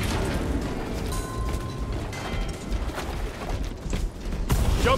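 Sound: jump pack engaging in Warhammer 40K Space Marine II, video game

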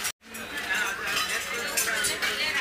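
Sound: stainless steel idli vessels being handled

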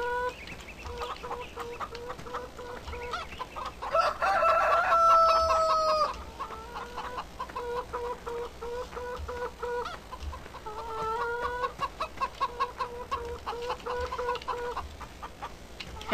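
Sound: chickens clucking in the video game Farming Simulator 2013

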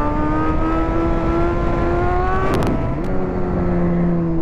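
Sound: Suzuki GSX-S 1000 motorcycle accelerating

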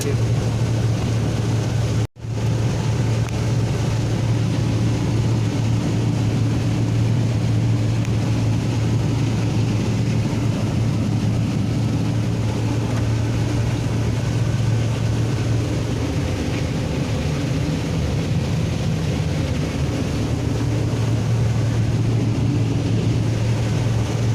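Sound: combine harvester threshing corn

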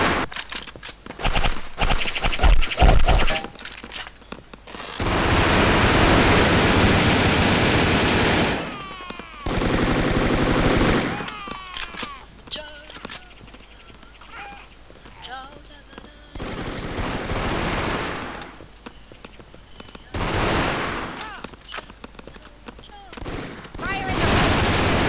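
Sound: gunfire in the video game Brick Force

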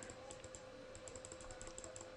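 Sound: pressing keys on a computer keyboard

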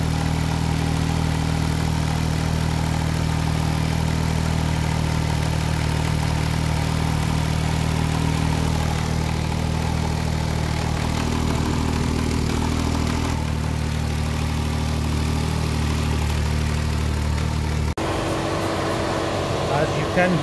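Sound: Smart Fortwo 1.0 L engine idling, radiator fan switching on

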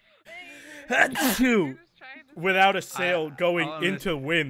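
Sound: sneeze

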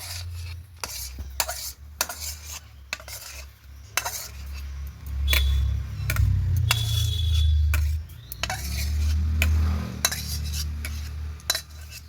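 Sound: stirring and spreading raw mango pulp on an oiled plate

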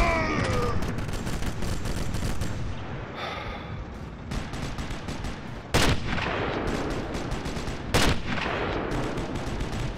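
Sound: gunfire in Sniper Elite video game

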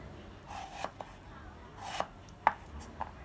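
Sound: knife chopping chili pepper

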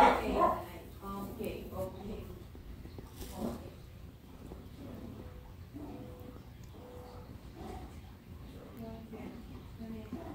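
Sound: dogs barking

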